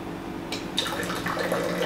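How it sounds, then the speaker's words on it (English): Hot water streams out of an air-to-water machine's dispenser with a steady hiss and splash, beginning about halfway in and continuing to the end. "You'll notice hot water coming out."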